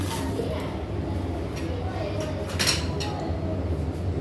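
A metal spoon clinks against a glass while sugar is stirred into homemade summer juice, light scattered taps over a steady background hum.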